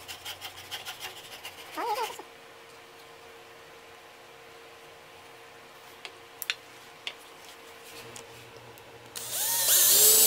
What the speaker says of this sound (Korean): 윗판의 볼트를 끼울 위치에 정확히 구멍을 뚫어줍니다.